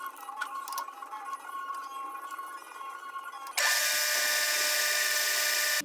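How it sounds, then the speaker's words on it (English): A drill bores into the end of a metal bar to make room for an LED, starting with a muffled, uneven grinding whir. Midway it jumps to a loud, steady, bright high-pitched drone that runs to the end, close up. "I'm going to drill out the end of this bar here so I can fit the LED"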